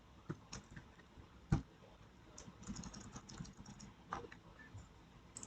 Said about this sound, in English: just type a password